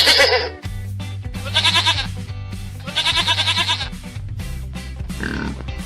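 A farm goat gives several loud, quavering bleats in a row over about six seconds, close to the listener, with background music running beneath and a squealing call near the end.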